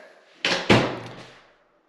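A hidden closet door in a newly built house swings and shuts, two sharp knocks in quick succession followed by a short fading room echo.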